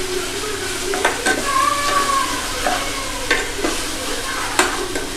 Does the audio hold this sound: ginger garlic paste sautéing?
yes